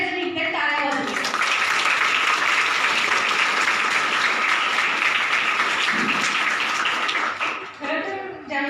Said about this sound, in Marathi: या मुलींसाठी आपण सगळ्याजणी इकडे टाळ्या वाजवूया